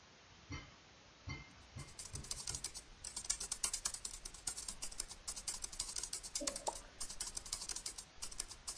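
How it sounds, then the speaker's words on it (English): Typewriter clacking plays as a sound effect in the video game RE:WAGAMAMA HIGH SPEC, a brisk run of dense, crisp key strikes after a few soft taps, steady and close. "That sounds like someone using like a typer. Like an old writing machine."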